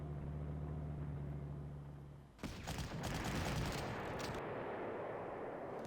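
Artillery and gunfire in the strategy video game Panzer Corps: a sudden burst of rapid, crackling shots and blasts partway through, following a steady low hum, then a quieter rumble.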